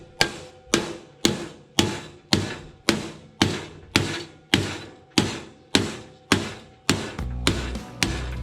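Hammer strikes on a sheet metal edge being formed for 1935 Chevy running boards: about a dozen sharp, evenly spaced metallic blows, close and clear, each ringing briefly before the next, with a heavier thud near the end.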